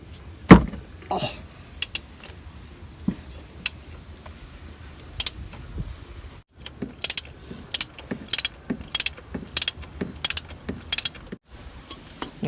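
A ratchet wrench turns deep in a Ford Ranger engine bay to loosen the oil filter. Sharp metallic clicks and clinks come sparsely at first, then in a quicker run of bursts later, close and distinct.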